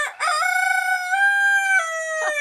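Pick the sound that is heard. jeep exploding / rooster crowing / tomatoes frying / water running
rooster crowing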